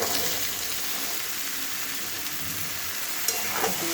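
Peas tipped into a pan of frying spices for ghugni crackle and sizzle in a steady, dense hiss, with a few clinks and stirring scrapes near the end.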